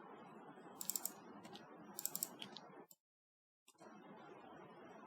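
Close, clicky typing on a computer keyboard comes in quick bursts of keystrokes, stops completely for a brief moment, then resumes at a steady pace. There is no talking.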